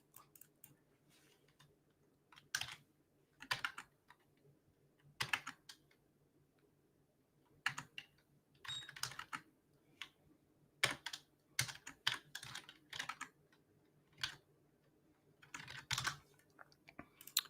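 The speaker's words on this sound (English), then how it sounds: "So what you guys just see me type in here" Typing on a computer keyboard while entering trading projections, heard as quiet, close bursts of rapid key clicks separated by short pauses over a faint hum.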